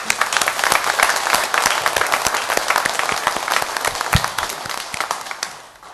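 Church congregation applauding in praise during a worship service, a dense, steady wash of many hands clapping at close to moderate distance that fades toward the end.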